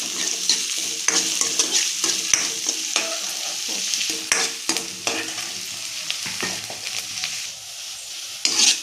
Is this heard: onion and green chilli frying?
yes